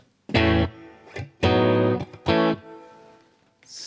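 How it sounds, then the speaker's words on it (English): Electric guitar through a Bugera V22 Infinium tube amp with reverb added, sounding three loud strummed chords separated by short gaps, each leaving a fading reverberant tail, played close with no talking. "Let's add a reverb."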